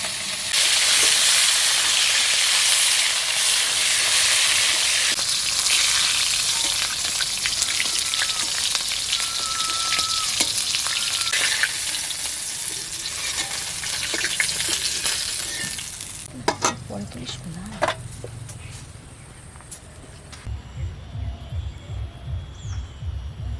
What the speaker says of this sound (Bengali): এলাচ দিয়েছি লবঙ্গ ডালচিনি আর তার সঙ্গে পেঁয়াজ ভেজে নিয়েছি